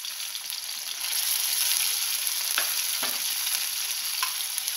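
About a teaspoon of ginger paste hits hot oil in a pan, and the sizzle swells after a second into a steady hiss while a spoon stirs it, with a few brief scrapes.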